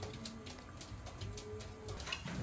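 A racing pigeon, a One Bird Derby racer, cooing softly beside its mate in the loft, the low murmuring coos faint and close under a steady background hum.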